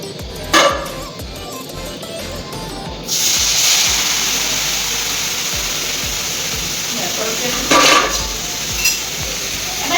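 Pointed gourd and onion hit hot oil in a home kitchen pan, setting off a loud, steady sizzle that carries on for several seconds, with brief clatters of stirring on top.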